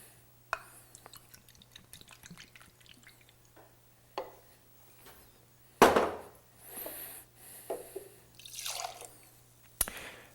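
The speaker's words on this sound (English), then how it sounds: "We're going to start off with 2 ounces of Hendrick's gin." Hendrick's gin is poured for a Gimlet cocktail, heard as soft, close drips and trickles of liquid with faint glass clinks, quiet and intermittent over a low background hum.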